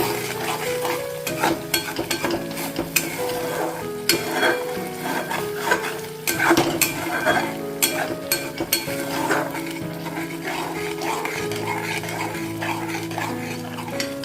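Capsicum paneer masala being stirred and fried in a pan, with a steady sizzle under repeated scraping and clinking of a utensil against the metal, close and continuous throughout.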